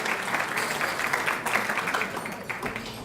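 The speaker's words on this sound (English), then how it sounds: "give a round of applause to Jason and the staff here at Yankee Trace" A crowd at a volunteer celebration applauds the venue staff, with dense, continuous clapping from many people at even strength that tapers a little near the close.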